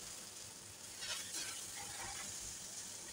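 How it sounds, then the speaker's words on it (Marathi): Rice flour batter hisses and sizzles steadily on a hot griddle over a high flame, a soft, close, continuous frying sound with no talking. "त्यानंतर आपल्याला तव्यावरती घालायचं आहे. आणि ज्या वेळेला आपण तव्यावरती हे मिश्रण घालतो त्यावेळेला गॅस आपल्याला फास्ट ठेवायचा आहे."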